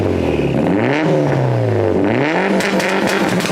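A Mitsubishi Evo engine revs close by, its pitch rising and falling in a couple of quick swells over a continuous loud drone, with no talking.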